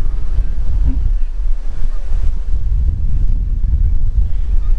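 Strong wind roars across the microphone at Bang Saen beach while sea waves surge and break continuously underneath, a loud, dense rush with no pauses.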